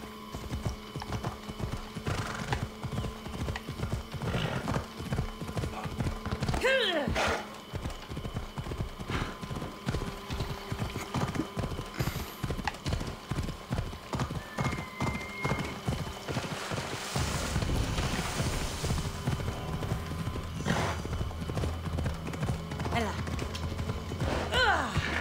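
A horse gallops in Assassin's Creed Odyssey on Xbox Series X, with rapid rhythmic hoofbeats running through most of the stretch and a couple of neighs breaking in, loud and close.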